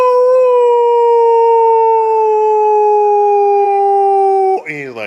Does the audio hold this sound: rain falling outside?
no